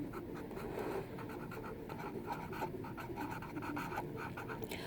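A marker or chalk writing on a board during a lesson, a steady soft scratching with short strokes and taps, fairly quiet and close, with no talking.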